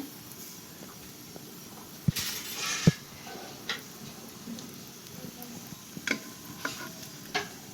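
Chicken momo dumplings crisping in a pan as the water dries off, giving a faint, steady sizzle with a few sharp clicks and scrapes of a utensil against the pan.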